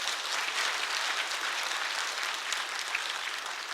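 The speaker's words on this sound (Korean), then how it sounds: "우리 감독님 위해서 박수" A church congregation at a dawn prayer service claps for the director, a broad, even wash of many hands applauding together at moderate volume for several seconds without speech.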